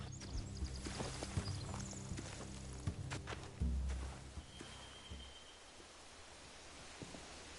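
Horse hooves clip-clop steadily over a rustling outdoor background in The Walking Dead video game, with occasional louder thuds, fairly close and moderate in volume.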